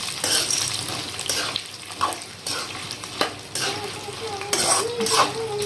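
Ingredients stirred and fried in a pan while making poha chivda, with a utensil repeatedly scraping and clinking against the metal over a light sizzle, close by and without talk.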